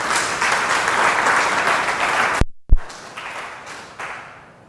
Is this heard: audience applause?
yes